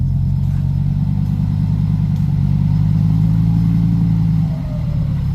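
A TS115 farm tractor engine labouring hard while pushing earth, a loud close diesel drone with steady low harmonics, briefly dipping in pitch near the end before recovering.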